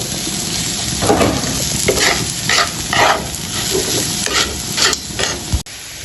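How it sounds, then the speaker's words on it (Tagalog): Butter stirred into frying tuna sisig, a loud continuous sizzle broken by several scraping stirring strokes and a sharp clank near the end. "At halu-haluin hanggang sa matunaw."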